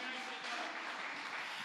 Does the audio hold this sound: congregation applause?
yes